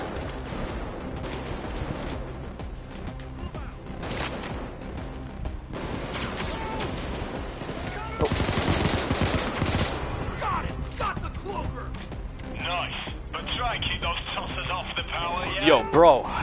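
Gunfire rattles in Payday 2 during a Hoxton Breakout heist, with bursts of shots, radio chatter and game effects blending under a talking player.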